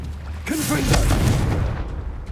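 A Confringo explosive spell goes off in Hogwarts Legacy on PS5, a single loud booming blast that bursts suddenly and rumbles briefly before fading into game ambience.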